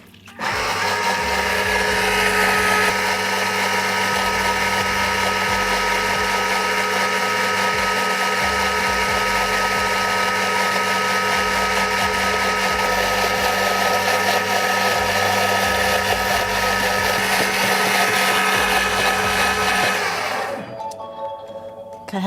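A food processor whirs at high speed (speed 8) while making hollandaise with boiling butter, a loud, steady motor drone that runs for about twenty seconds, then winds down and stops.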